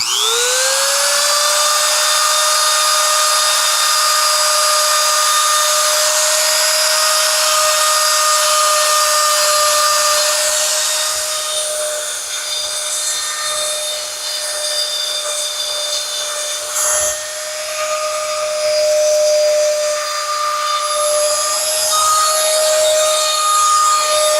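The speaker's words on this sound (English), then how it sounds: "So I'm going to give it a little grind around there." A high-pitched power tool spins up and grinds the ragged leather edge around the belt slots of a handmade stingray holster, running continuously and loud at close range with slight changes in pitch as it works.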